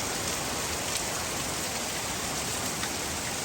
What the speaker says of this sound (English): Well, rain coming down now.